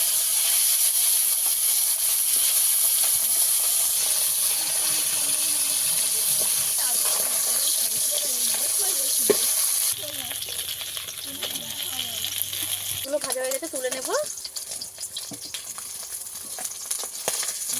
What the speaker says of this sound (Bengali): ভালো করে উল্টো পাল্টা লাল লাল করে একটু মাছটাকে ভেজে নেবো